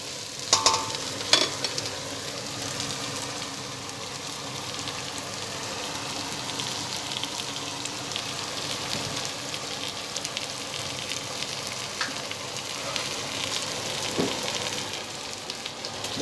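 Food sizzles and fries steadily in a pan while pork sarciado is being cooked, a constant crackling hiss with a few sharp stirring clinks early on and occasional pops.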